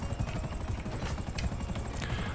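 Helicopter from the GTA Online casino update whirring steadily at moderate volume, a continuous low rotor throb with engine hiss and no talking.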